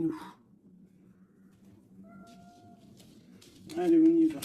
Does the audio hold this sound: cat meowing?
yes